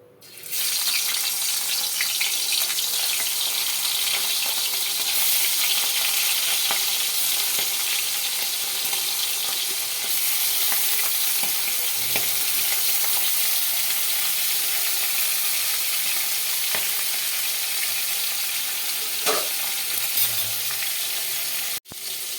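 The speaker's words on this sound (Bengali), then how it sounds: "আমার ইলিশ মাছের মাথাগুলো ভাজা হয়ে গেছে" Hilsa fish heads fry in hot oil with a steady, close sizzle and crackle that runs unbroken for about twenty seconds, with faint scraping and a few clinks over it.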